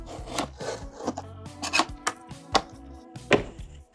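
A Kershaw Launch 10 knife slices open a cardboard box, making a series of close scraping and cutting strokes with sharp ticks and rubbing sounds that run unevenly for several seconds, with no talking.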